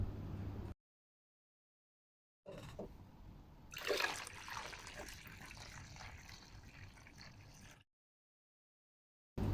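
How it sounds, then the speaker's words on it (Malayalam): Water scooped off the top of fermented batter for Tirunelveli-style halwa gives soft trickling and splashing pours in a single burst of several seconds, bracketed by silence. "ഇതിന് മുകളിലുള്ള വെള്ളമൊക്കെ ഒന്ന് ഇതുപോലെ ഒന്ന് കോരി മാറ്റാം"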